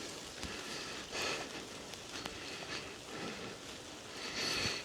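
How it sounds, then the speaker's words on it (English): Rain falls during a country walk outdoors, a soft, steady patter with occasional louder gusts of drops and rustling close to the microphone. "Oh, it's raining again."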